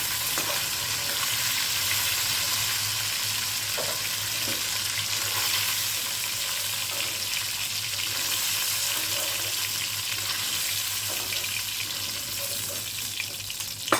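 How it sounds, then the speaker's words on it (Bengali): Snakehead fish pieces frying in hot oil in a home kitchen, giving a steady, close, dense sizzle throughout with faint clinks of a spatula now and then; no one speaks. "প্রথমবারের মাছটা আমার প্রায় ভাজা হয়ে গেছে, এখন আমি তুলে নিচ্ছি।"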